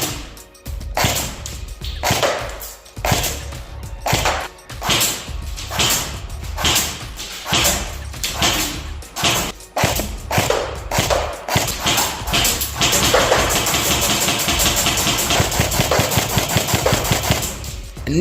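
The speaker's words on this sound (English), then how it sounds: "Right, so first of all go with the semi-automatic." Snow Wolf AUG electric airsoft gun fires on semi-automatic, a string of loud, close, sharp single shots at an uneven quick pace, turning into a denser, steadier buzz toward the end.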